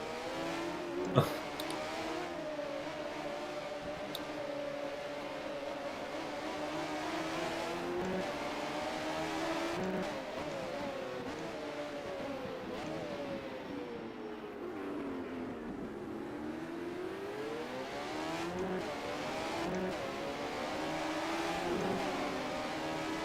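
A 1980 Formula 1 car in the rFactor racing game drones steadily at close range, its engine pitch rising and falling through gear changes, braking and acceleration, with no talk.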